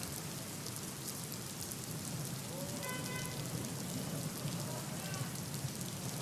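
Heavy monsoon rain pelts surfaces around the Turbhe railway station area in Navi Mumbai, a steady hissing downpour with a few faint tonal sounds drifting through midway.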